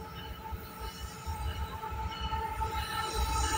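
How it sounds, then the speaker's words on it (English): A CN eastbound freight train with several locomotives passes Brantford VIA station, a steady loud rumble of wheels on rail with faint squeal, continuous and close throughout. "So what do we have for power on this eastbound train here?"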